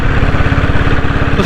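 A restored diesel Royal Enfield Bullet engine idles close by with a steady, even low thumping rhythm of rapid regular beats and no talk.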